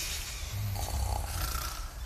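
A group of people at a church gathering imitates snoring together, producing a steady rumbling chorus of fake snores that continues without a break.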